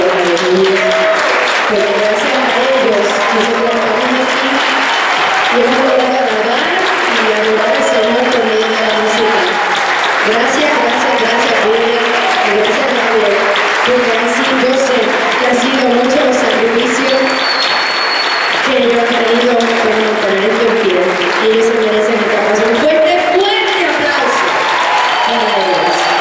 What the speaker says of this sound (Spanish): le dé un fuerte aplauso a Vivi